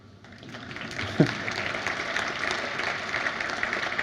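Scattered applause rises from the audience at the AngularConnect 2017 conference talk on MobX. Clapping builds from quiet to a moderate, steady patter over a few seconds, with one sharp thump near the start.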